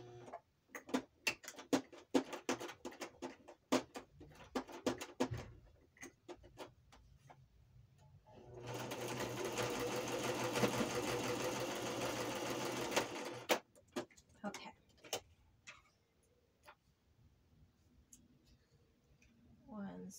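Sewing machine stitching a pocket tag: bursts of quick close clicking and tapping, then a steady whirring run of several seconds in the middle, followed by scattered handling clicks, all fairly faint.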